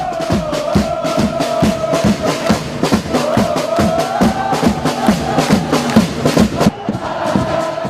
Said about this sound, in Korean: 응원석이 환호의 도가니로 바뀌면서 점프 동작이 격렬해진다.